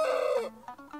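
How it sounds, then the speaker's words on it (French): A rooster crows once, close and loud, its drawn-out call fading into a few softer clucking notes with no voices. "tous les matins, on entend le coq dire"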